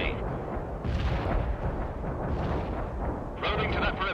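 Artillery fire in the World in Conflict real-time strategy game, a Soviet assault: continuous rumbling booms and blasts rolling through a dense battle soundscape, with radio-style unit voices speaking over it.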